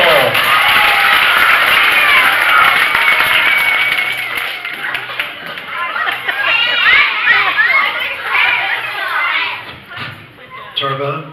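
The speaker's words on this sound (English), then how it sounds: "How about clapping for my pal Turbo the Turtle?" A crowd of children claps and cheers loudly for a costumed turtle character named Turbo at a school show, with dense applause and shouting that tapers off, then excited chatter toward the end.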